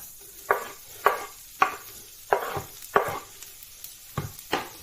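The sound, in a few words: stir-frying in hot oil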